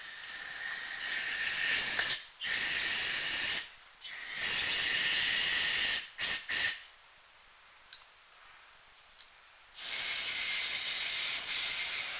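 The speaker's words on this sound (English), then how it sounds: "So soak that carb clean. Spray this down." Several bursts of close carburetor cleaner spraying from an aerosol can onto a carburetor, each a loud, bright hiss lasting one to two seconds, separated by short gaps and a longer quiet stretch.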